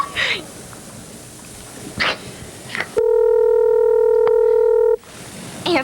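A telephone line gives a steady two-second tone with a single dial-tone beep in it, between bursts of a dog barking and indoor talk.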